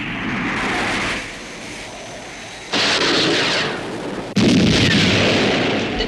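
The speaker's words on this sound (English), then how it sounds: "Commencing missile sequence. Firing" A missile fired at a UFO: loud rushing roars and blasts that come in surges, with a sharp jump in intensity near the middle and another stronger burst toward the end.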